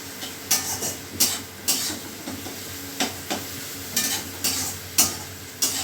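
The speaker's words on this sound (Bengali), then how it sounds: "এবারে এটা একটুখানি ভাজা ভাজা হবে।" Garlic and ginger frying in a pan, a soft steady sizzle broken by a spatula scraping and stirring in regular strokes about twice a second, close and clear with no voices.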